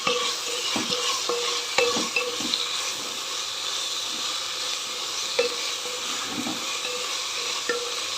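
Mint chutney ingredients are stirred in a hot pan, with a constant sizzling hiss and scattered scrapes and taps of a spoon against the pan, continuous and close with no talk.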